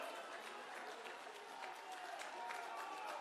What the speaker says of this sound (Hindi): जोरदार तालियां, हाथ उठाकर, दोनों हाथ उठाकर